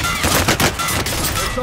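Gunfire in the Call of Duty Warzone video game, a dense stretch of rapid, loud bursts that fill the whole clip without pause, with no talk over it.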